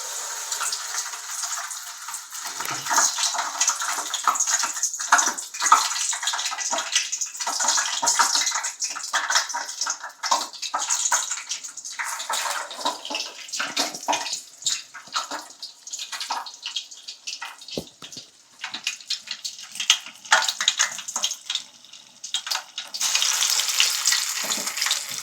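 Jowar garelu (sorghum fritters) fry in hot oil on a pan, giving a continuous crackling sizzle with bubbling bursts that rise and fall, close and fairly loud.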